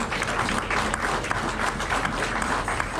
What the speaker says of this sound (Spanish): Ahora dele un aplauso.